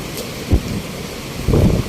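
Steady daytime rain that has been falling since dawn makes a constant hiss, with two dull low thumps standing out, one brief and one longer near the end.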